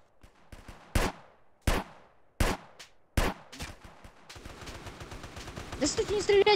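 Gunfire in the video game GTA San Andreas multiplayer (SAMP) at a police headquarters: four sharp, loud single shots spaced about a second apart, then a denser burst of rapid fire building toward the end.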